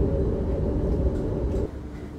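A tram runs along meter gauge tracks on the world's longest tram line, giving a steady, loud low rumble of wheels and motor that drops off slightly near the end.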